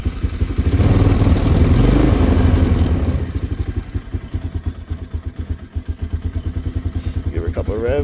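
A 2002 Polaris Sportsman 500 H.O. ATV engine just after a cold start, heard close up: a loud throttle rev for about three seconds, then a lumpy, rhythmic chugging idle that continues steadily.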